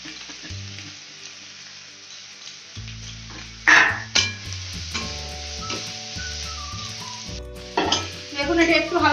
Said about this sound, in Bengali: দেখুন এটা একটু হালকা ভাজা হয়ে যাচ্ছে।